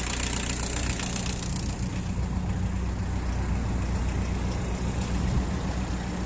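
An 1981 VW Rabbit running a 1.6 turbo diesel engine from a 1991 Jetta, idling with a steady, close clattering drone and even knock throughout.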